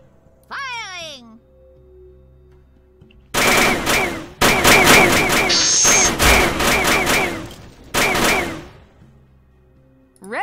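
Rapid bursts of automatic weapon fire from the tactical video game UFO: Afterlight rattle loud and close in several volleys, with a voice speaking beforehand and brief electronic chirps between.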